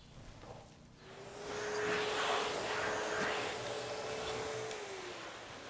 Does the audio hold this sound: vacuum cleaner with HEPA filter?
yes